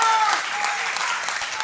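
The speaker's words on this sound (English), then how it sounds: "Let's give them a round of applause for those first 3 questions." Audience applause in a worship service setting, a steady wash of many hands clapping together, fairly loud and sustained through the whole short moment.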